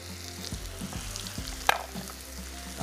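Chicken frying in a pan for green masala chicken sizzles steadily, with a few stirring knocks and a sharp clatter near the middle of the short stretch.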